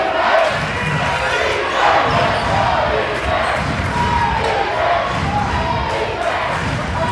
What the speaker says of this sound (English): Both crowds getting into it.